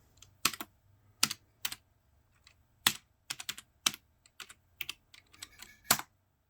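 A password is typed on a computer keyboard: a sparse, uneven run of crisp, close keystrokes with gaps between taps, in an otherwise quiet room.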